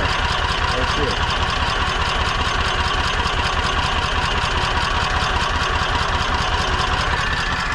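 A Toro Workman utility vehicle engine idles steadily and loudly, with a rapid, even chugging pulse that holds without change throughout.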